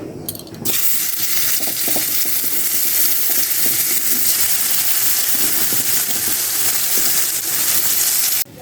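Eggplant slices frying in oil in a pan, a loud, continuous close-up sizzle and crackle that holds steady throughout after a brief opening clatter, with no speech.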